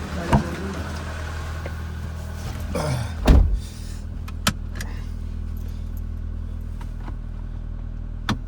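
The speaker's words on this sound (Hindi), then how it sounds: "ये इतनी आवाज़ इसलिए कर रही है, इसकी रीजनरेशन हो रही है।" A car's engine drones steadily and loudly up close during exhaust filter regeneration, with a few sharp clicks and a brief clatter partway through.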